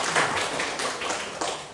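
Audience applause for Bapak Eka at an educators' gathering, a dense patter of clapping that stays fairly steady for under two seconds, with no voices on top.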